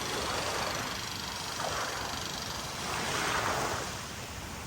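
Surf rolls onto Hua Hin beach in Thailand as a steady broadband wash, with two gentle swells in loudness and wind buffeting the microphone throughout; no voices are heard.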